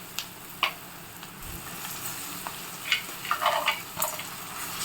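Chicken pieces dropped into a pan of softened, cooked tomatoes, with a steady low sizzle and a few sharp clinks and scrapes of stirring near the end.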